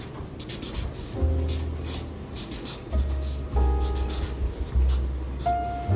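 Green pen writing on paper, steady scratchy strokes running through the whole stretch, close and fairly quiet, with faint low background hum beneath and no talking.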